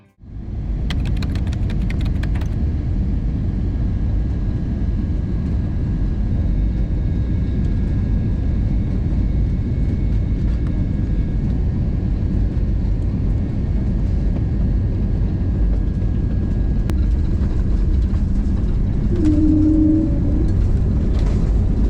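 Steady loud roar of a Cebu Pacific jet airliner landing at Manila airport, a continuous broad engine rumble holding throughout, with no voices.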